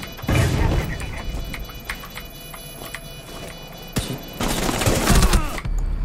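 Gunfire in the tactical shooter Rainbow Six, a handful of sharp shots scattered across the moment with a louder burst near the end, over game ambience and faint voices.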